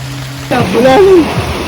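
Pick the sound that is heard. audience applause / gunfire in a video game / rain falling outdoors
rain falling outdoors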